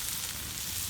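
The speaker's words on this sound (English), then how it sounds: "Everything's sizzling." Vegetables and food sizzle and sauté over a low flame on a campfire grill while glamping, a steady, dense crackling hiss with no voices.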